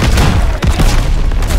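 A tank blown up in a World War II Call of Duty battle on PS4: dense, loud booms and crackling gunfire roll on continuously without a clear break, with a sharper blast near the middle.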